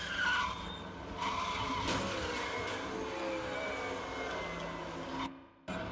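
A race car spins out and crashes at Bathurst in a racing video game, with a steady, loud engine and tire skid drone running throughout before a brief near-silent gap late on.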